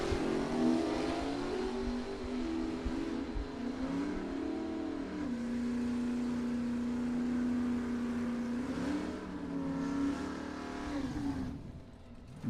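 Drag race with Jim Keith's wheel-standing Chevelle against Dennis Roche's 1978 Mustang at a bracket nationals event; a loud, sustained engine roar with rising and falling revs runs nearly the whole time, fading slightly at the end.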